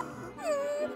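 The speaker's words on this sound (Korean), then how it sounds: "강아지다!" A puppy gives a single drawn-out whimpering whine that slides downward and holds, fairly faint against a low background rumble.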